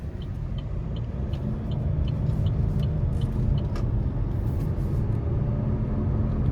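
A 2024 Buick Encore GX ST with a 1.3-litre turbo engine and CVT accelerates, giving a steady low engine drone and road rumble from inside the cabin with faint ticking, even and unbroken throughout.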